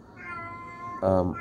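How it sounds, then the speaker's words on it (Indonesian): A domestic male cat in heat calls loudly for a female, a drawn-out nasal meow that swells into a louder, harsher cry near the end, close and alone. "itu kucing saya sendiri ya"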